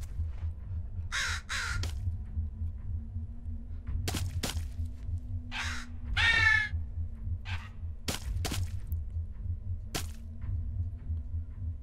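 Crow caws in the horror video game Wick: No Way Out, a few harsh calls in short bursts over a steady low ambient drone, with occasional sharp clicks and thuds in between.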